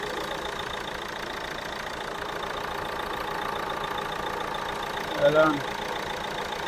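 A Renault Duster RXZ engine idles steadily at a low, even hum, fairly quiet, with a brief bump near the end and someone speaking briefly over it.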